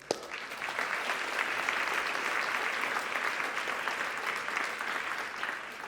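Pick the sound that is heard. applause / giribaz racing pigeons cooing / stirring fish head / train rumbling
applause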